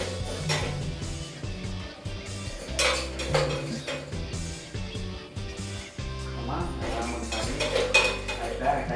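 Chana dal is rinsed in a metal kitchen vessel, with clinks and scraping of utensils against the pot in irregular bursts, plus sloshing and stirring. Quiet voices talk in the background now and then.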